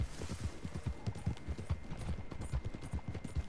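A horse gallops in the video game Red Dead Redemption 2. Its hooves beat out a quick, even clip-clop rhythm at moderate loudness, with no talk over it.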